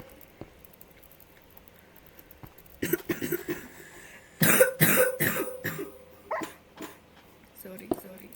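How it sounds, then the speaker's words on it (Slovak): A man coughs a few times indoors, with short, harsh bursts rising out of a quiet room, mixed with some brief speech and light tapping. "Kašlem."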